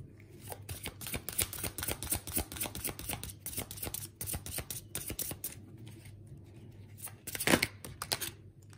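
Tarot cards are shuffled for a reading, a close rapid riffle of crisp papery flicks and slaps in bursts, pausing briefly before a final louder flurry.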